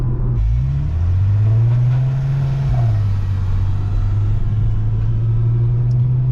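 Volkswagen Golf Mk5 R32 engine while driving, a loud, steady rumbling drone that rises in pitch as it accelerates, then settles into a sustained cruising tone heard from inside the car, with no talk.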